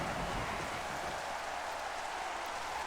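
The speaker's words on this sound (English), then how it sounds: "Just gotta stay smooth in this rain." Steady rain hiss throughout a wet race in the 1997 video game Formula 1 Championship Edition, a continuous broadband wash of raindrops with no distinct engine or voices standing out.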